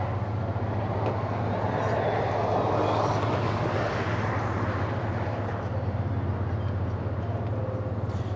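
Airliner at LAX climbing away on takeoff for Phoenix, a steady broad jet roar that swells and holds at moderate distance, with a low constant hum beneath and some faint background noise.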